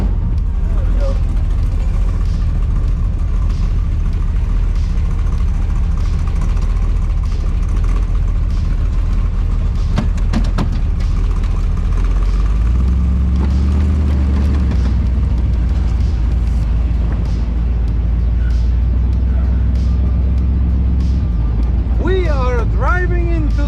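A car drives along with its engine running, a continuous low rumble and road noise throughout, with a brief voice near the end.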